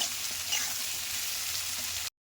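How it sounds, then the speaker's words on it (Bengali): Potatoes frying in fish oil with salt and turmeric in a pan, a constant close sizzle with light stirring that stops abruptly at the end. "এবার নুন হলুদ দিয়ে দিয়েছি এর মধ্যে। এবার এগুলো আমি ভাজা ভাজা হতে দেবো কিছুক্ষণ।"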